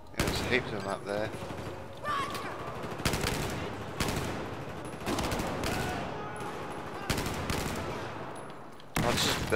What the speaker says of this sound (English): Oh, this is burst fire